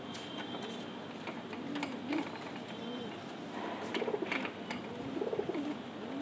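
Male pigeons cooing in a loft, several soft throaty coos rising and falling in repeated bursts over a steady ambient hum, fairly close and moderately loud.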